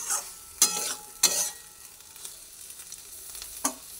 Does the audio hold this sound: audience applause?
no